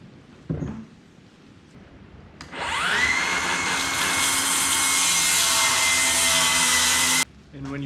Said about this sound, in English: So this is the poor man's track saw,